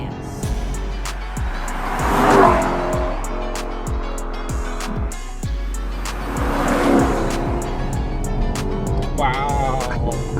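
A Lexus LC500 V8 accelerates hard on a test drive, its engine roaring loud and close with rising revs and gear-change breaks, tire chirps mixed in; voices murmur underneath.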